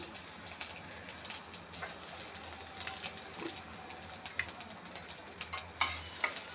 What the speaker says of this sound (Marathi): लसूण छानपैकी गोल्डन ब्राऊन झाला